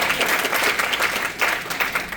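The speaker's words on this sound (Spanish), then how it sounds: "Un fuerte aplauso y por el equipo multimedia." Church congregation gives a loud burst of applause for the multimedia team, dense clapping throughout, close and without talk.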